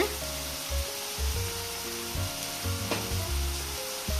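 Garlic frying in a pan, a steady sizzle broken by repeated low knocks and scrapes as it is stirred.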